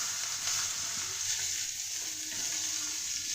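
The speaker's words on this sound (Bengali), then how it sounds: "আমার ফোড়নটা হয়ে গিয়েছে, এবার আমি এতে পেঁয়াজগুলো দিয়ে দেব" Onions sizzle steadily in hot oil in a pan, with cumin, bay leaf and garam masala already tempered for a malai curry; a dense, continuous hiss runs throughout at close range with faint stirring, and no one speaks.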